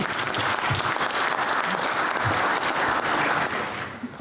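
Audience applause for Helen Cook at a small modular reactor forum in Canberra, a full room clapping steadily for about four seconds before fading out at the end.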